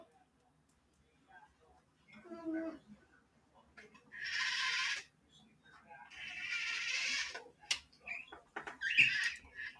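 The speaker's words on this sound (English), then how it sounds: "The one singing right now is a budgie." A pet budgie singing indoors, with chattering warbles, squeaky chirps and bursts of buzzy, rasping song in uneven phrases, close and moderately loud, interrupted by short gaps.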